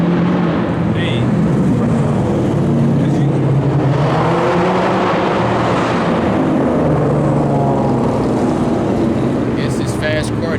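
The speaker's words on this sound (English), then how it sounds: "It's this fast car day or something." Fast cars pass and rev at a street gathering, a loud, continuous engine roar filling the whole stretch, with voices faintly underneath.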